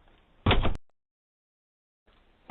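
A door being beaten and forced open by burglars during a break-in on Highfield Road, Birmingham: one loud, close thud, then near silence before the next blow begins at the very end.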